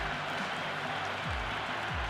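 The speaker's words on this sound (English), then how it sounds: "There's a buzz, a real buzz coming from the stands." Crowd applauding and cheering in the stands of a Pakistan versus Australia T20 cricket match, a steady dense roar of clapping throughout.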